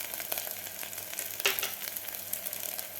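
Dry spices with turmeric and asafoetida hit hot oil in a pan, giving a soft, steady crackling sizzle with a sharper pop midway, quiet and close.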